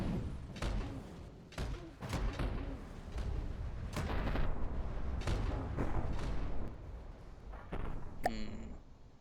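Repeated heavy blasts of twin particle cannon fire in a sci-fi video game, booming thuds and sharp bursts in an irregular rhythm, with a rising whine near the end.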